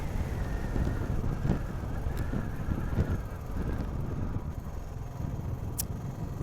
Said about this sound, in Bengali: হাওয়ার পুরো শো শো আওয়াজ, পুরো ঝড়ের মতো